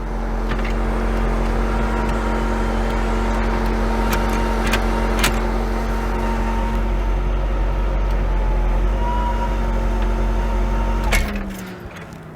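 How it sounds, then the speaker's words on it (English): A C4 Corvette engine idles steadily with a low, constant hum and a few brief clicks, then cuts off abruptly near the end. "Car starts up."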